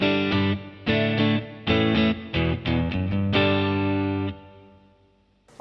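Clean electric guitar tone through an amplifier, close-miked with a Shure SM57: a series of strummed chords with sharp attacks, a long ringing final chord that fades out, loud and alone.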